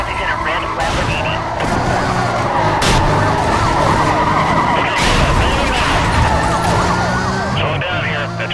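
Police sirens wail during a chase in Need for Speed Most Wanted, mixed with roaring car engines and tire noise, loud and continuous, with radio dispatch voices underneath.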